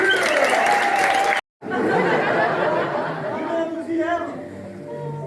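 Comedy-show audience applauds the lighting and music technicians; loud clapping with murmuring and laughter, briefly cut by a sudden gap, then resuming and thinning as voices and chatter take over.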